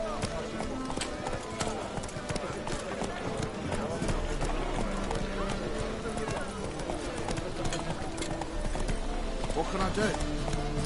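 Roach the horse gallops in The Witcher 3, a steady rhythmic clip-clop of hooves running close and loud throughout, with a voice talking over it and a busy background underneath.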